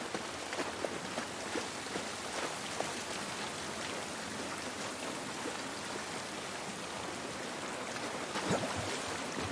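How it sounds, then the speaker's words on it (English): Steady rain pouring outdoors in The Last of Us video game, a dense continuous hiss of drops with scattered splashes, heard alone at a moderate level. "This rain ain't gonna do us any good."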